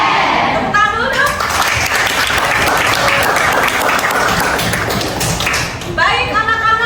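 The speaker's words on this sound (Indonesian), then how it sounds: "Tepuk tangan dulu dong." A classroom of students claps their hands together in a sustained, dense burst lasting several seconds, with children's voices and cheers mixed in near the start and end.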